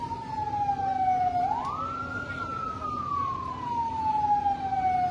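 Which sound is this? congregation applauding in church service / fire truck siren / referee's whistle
fire truck siren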